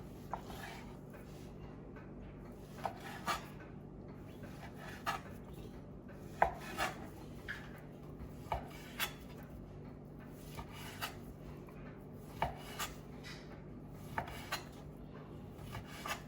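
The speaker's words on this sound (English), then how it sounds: "we're going to slice this up into some small pieces" Bacon sliced into small pieces with a knife on a board, with a steady series of soft, evenly spaced chopping thuds, close and fairly quiet.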